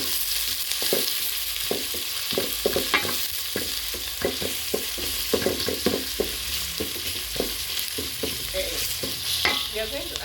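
Garlic frying in a pan while being stirred for a bean stew curry, with steady sizzling and repeated scraping strokes of the spoon, close and continuous, no talking.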